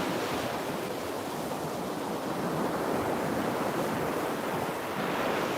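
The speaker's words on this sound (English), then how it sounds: "couldn't you just sit here and look at these waves all day and listen to them?" Ocean waves breaking on a shore in a continuous loud roar of surf, with wind buffeting the microphone and no talk.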